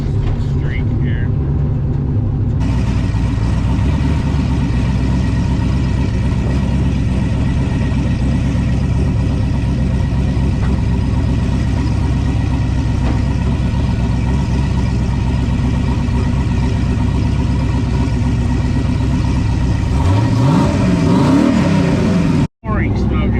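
A turbocharged LS-swapped Oldsmobile Cutlass engine runs loud and steady, then revs up near the end with a rising whine, voices talking over the noise.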